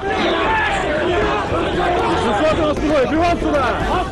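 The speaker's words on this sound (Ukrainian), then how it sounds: "Завбачивши стяг, натовп правих лютує." A dense, loud crowd of right-wing protesters in Lviv rages at a red flag on a memorial hill, voices overlapping in agitated shouting and babble that never lets up.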